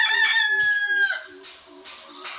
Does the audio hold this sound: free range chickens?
yes